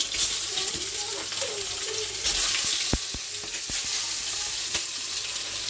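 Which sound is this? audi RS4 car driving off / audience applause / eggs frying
eggs frying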